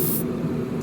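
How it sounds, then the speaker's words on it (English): Paint hisses from a sprayer onto the mirrors of a Revell 1971 Boss 351 Mustang model car, one short steady close burst. "See how this sprays out."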